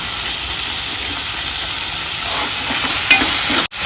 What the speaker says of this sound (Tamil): தக்காளி வந்து நல்லா குழஞ்சி வதங்கி வரணும்.